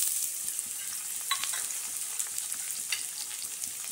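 Chopped onions with ginger garlic paste frying in a pan, a steady bright sizzle with occasional light crackles and a stirring scrape, close and continuous.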